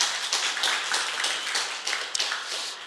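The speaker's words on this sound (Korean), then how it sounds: "다시 한번 큰 박수 부탁드리겠습니다" Audience applause at an academic conference marking a scholar's 400th birth anniversary, steady and moderately loud for about three seconds with no voices over it.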